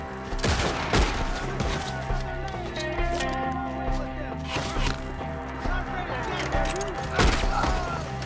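Gunfire crackles through a Red Dead Redemption 2 shootout against enemies up in the trees, with several sharp shots and rapid bursts under a steady game soundscape and music, while voices shout over the fighting.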